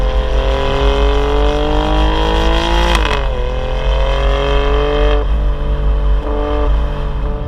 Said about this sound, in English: that noise, only Italian cars sound like that